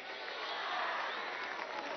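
Crowd applause at a women's day rally, a dense steady wash of clapping from many people that swells briefly and continues throughout.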